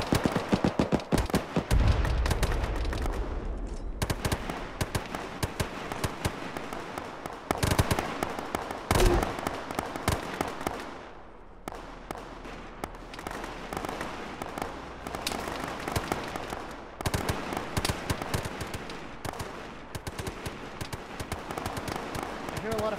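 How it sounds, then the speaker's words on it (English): Heavy gunfire in the military game ShackTac, with rapid crackling bursts and machine-gun rattles echoing near and far in dense volleys over about twenty seconds. Voices talk intermittently amid the shooting. "I hear a lot of fire."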